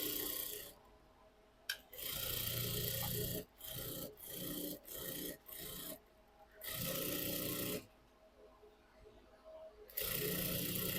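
A sewing machine runs in several short bursts while stitching around all sides of a blouse, its whirring rattle starting and stopping with brief pauses between runs, close and moderately loud.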